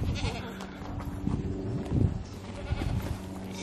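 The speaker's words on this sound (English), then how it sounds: "She's a pygmy goat." A pygmy goat bleats in several short, wavering cries at close range, amid faint rustling and background noise.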